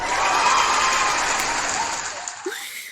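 Canned cheering and applause plays as a sound effect: a crowd roars and claps loudly, then fades out toward the end as a voice briefly cuts in.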